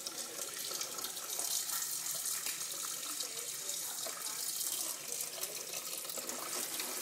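Water runs steadily from a sink tap, filling the basin for a baby's bath, a continuous close hiss and splash with no talk.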